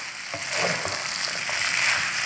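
Chicken and egg noodles fry in a pan over slightly below medium heat, giving a steady, close, fairly loud sizzling hiss that carries on without pause and with no voices.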